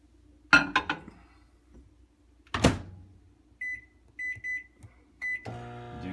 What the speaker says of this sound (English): Now I'm just going to put that in the microwave for about a couple minutes.